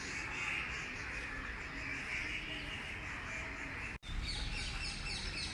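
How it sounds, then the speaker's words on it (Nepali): Birds call in a green hill forest near Kedareshwar temple, a dense continuous chorus of chirps and calls heard at moderate distance against a hissy outdoor background. "चराचुरुङ्गीहरू आफ्नै तालमा कराइरहेछन्।"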